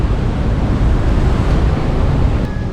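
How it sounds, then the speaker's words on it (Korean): Strong ocean surf roars steadily and loudly on a windy South African coast, a dense continuous wash of breaking waves with heavy wind buffeting the microphone and no voices. "진짜 파도 점점 세진다."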